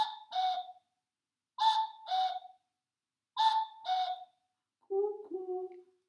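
A voice mimics a cuckoo, singing three clear two-note 'cou-cou' pairs, high then lower, and a final lower-pitched pair, close and alone with short pauses between.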